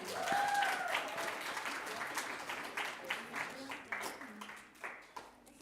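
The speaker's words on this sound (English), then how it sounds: "A round of applause, please." Audience applauding speakers at a primary school speech contest, a moderate room of clapping with a few distinct sharper claps standing out, fading slightly over time.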